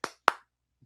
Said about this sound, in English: He's clapping for you